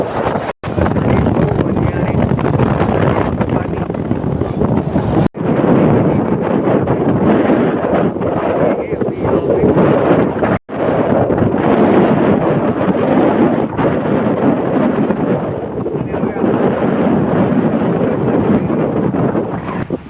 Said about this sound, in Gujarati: અને પવનની ગતિ બહુ વધારે છે